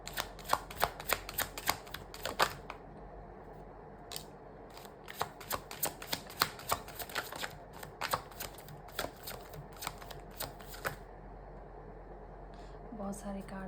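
A deck of tarot-style cards being shuffled in a quiet room, bursts of crisp riffling flutters and slaps in irregular clusters, close and moderately loud, with a faint voice near the end.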